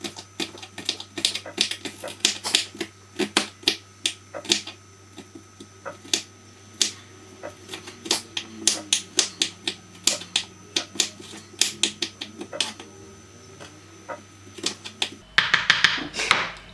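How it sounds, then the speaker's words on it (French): Onion is finely chopped with a knife on a board, a fast, steady run of crisp close taps lasting over fifteen seconds, ending with a brief rustle, with no talking. "Je vais prendre d'oignon comme ceci. Je vais vraiment la découper finement."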